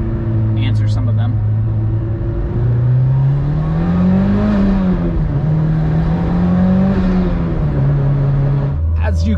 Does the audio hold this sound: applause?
no